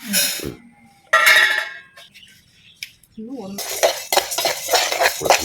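Urad dal dry-roasting in a pan while a utensil stirs and scrapes through it, giving bursts of close, rattling clinks and scraping with brief quieter pauses between.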